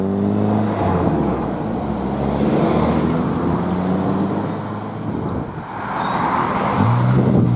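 A Ford Sierra Cosworth drives past at a Ford RS owners' day, its engine note rising and falling as it goes by close and loud among other traffic noise, with a second car approaching near the end.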